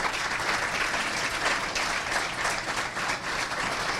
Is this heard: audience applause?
yes